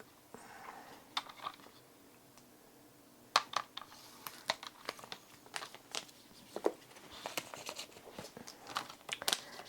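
Scissors cutting through a paper trading card during holiday scrapbook page crafting, a run of quick crisp snips and crinkles that come in uneven bursts, close and fairly quiet with no talking.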